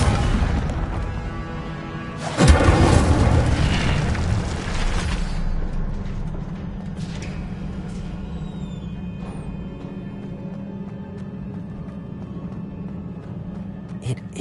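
An Incendio fire spell bursts in a video game with a loud, deep boom and roaring crackle, then settles into a long rumbling fire that slowly fades.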